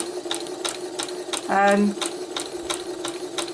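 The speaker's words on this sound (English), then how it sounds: "I'm going to turn the machine on." A sewing machine runs at its slowest stitch setting while stitching wire into a 3D textile piece, with a steady low hum and slow, regular needle ticks close by and a short voiced sound in the middle.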